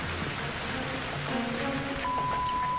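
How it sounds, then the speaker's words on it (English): Steady rain from an incoming storm, a dense, even hiss that stays constant throughout, with faint tonal hums running underneath and no voices. "The forecasted storm is rolling in."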